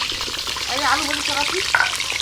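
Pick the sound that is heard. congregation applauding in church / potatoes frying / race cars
potatoes frying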